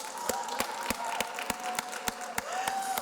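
Audience applause at the PanSALB Multilingualism Awards 2022 ceremony, a steady wash of many hands clapping with sharper individual claps punctuating it and a faint sustained tone underneath, no talking.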